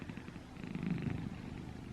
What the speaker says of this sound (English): Can we talk about this cat right now?